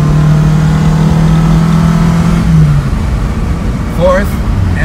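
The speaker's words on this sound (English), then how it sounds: "let's take it through the gears" 1972 Lancia Fulvia engine pulling hard, a loud rising drone that drops at a gear change and settles, with a short burst of speech afterward.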